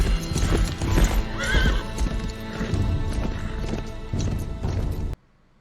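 Horse hooves clip-clop steadily with a loud neigh and crashing impacts in a dramatic scene from The Witcher: Blood Origin, busy and close, ending abruptly in near silence.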